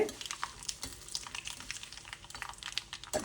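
Faint, irregular crackling and sharp little pops of mustard seeds sputtering in hot oil, steady throughout with no voices.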